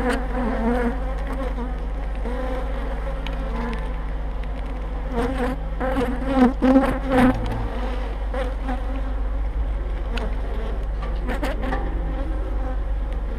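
Honey bees hum steadily in a dense, close swarm, with individual buzzes swelling louder as bees pass near, continuous throughout.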